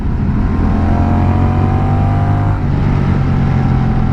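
A Honda Rebel 1100 motorcycle engine revs loudly and steadily at close range while the rider shifts gears, with a brief drop in the engine note partway through before it pulls again.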